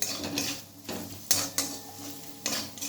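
A metal spatula scrapes and knocks against a pan while coriander powder, salt and turmeric powder are fried for a cabbage curry, with repeated stirring strokes and a faint sizzle underneath, close and fairly loud.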